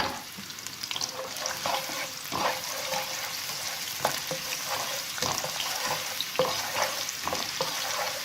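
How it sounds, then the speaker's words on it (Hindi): White onion frying in hot oil, a steady close sizzle with scattered stirring scrapes throughout, with no talk. "अब ये फ्राई हो रहा है।"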